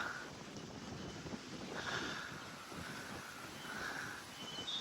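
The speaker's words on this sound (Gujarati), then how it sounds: "બહુ મસ્ત ઠંડો પવન આવ્યો" Steady cool wind rushes and buffets the microphone with a constant broadband roar that swells slightly now and then, with no talking.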